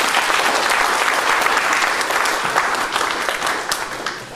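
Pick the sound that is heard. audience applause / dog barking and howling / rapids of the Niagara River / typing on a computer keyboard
audience applause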